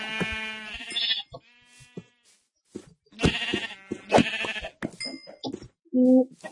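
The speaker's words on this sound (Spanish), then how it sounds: "¡Ovejitas! ¡Ovejitas!" Minecraft sheep bleat in the video game, several wavering cries in quick succession, loud and close, with brief pauses and a game chime near the end.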